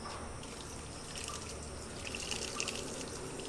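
Water splashes and trickles steadily as a child washes hands and feet, a soft continuous running-water sound at moderate distance with light drips.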